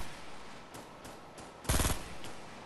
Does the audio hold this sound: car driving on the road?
no